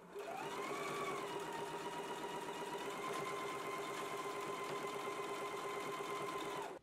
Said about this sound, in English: Let's go ahead and do the basting stitch now.